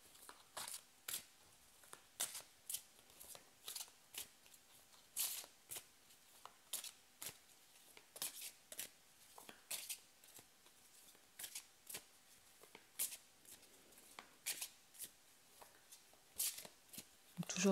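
Tarot cards are shuffled by hand in a quiet room, a long series of soft, crisp riffling bursts with short pauses between them, faint and close.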